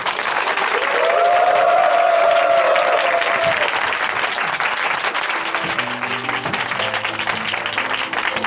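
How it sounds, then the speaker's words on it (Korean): Loud, sustained audience applause fills a church testimony gathering, a dense wash of clapping that holds steady for several seconds, with a brief sustained tone in the middle and low background sounds toward the end. "어느 때보다도 우렁찬 박수가 터져 나왔습니다."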